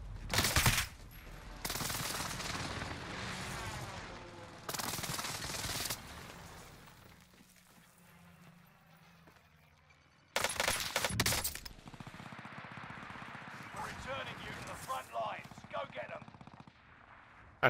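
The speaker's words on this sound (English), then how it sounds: "Enemy precision airstrike." An enemy precision airstrike in Call of Duty Vanguard brings several loud bursts of rapid gunfire and explosive blasts separated by quieter gaps, close and harsh, with a later stretch of crackling impacts.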